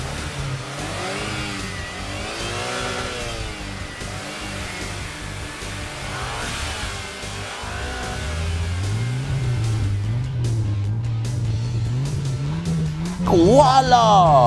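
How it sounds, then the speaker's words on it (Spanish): Toy race cars in a Lightning McQueen race rev their engines with rising and falling whines, and a sharp tire squeal comes at the end while a person talks over the action. "Está viendo una gran carrera de Rayo McQueen y Francesco,"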